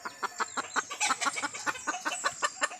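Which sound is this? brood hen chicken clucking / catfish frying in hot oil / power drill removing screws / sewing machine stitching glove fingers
brood hen chicken clucking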